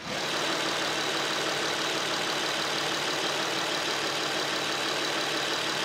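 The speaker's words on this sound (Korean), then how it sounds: "엔진룸 개방했고요 엔진 소리 들어보도록 하겠습니다" A Samsung All New SM7 with a Nissan 2.5-litre V6 engine idles steadily and loudly up close with the hood open, a constant broadband rumble with no talking and no change in pitch.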